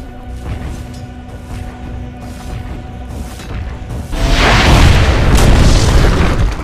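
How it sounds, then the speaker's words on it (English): A tower falls in the video game Dota 2. Steady battle ambience with rhythmic pulses gives way to a sudden loud boom and crumbling roar that stays heavy to the end. "Dire's bottom tower has fallen."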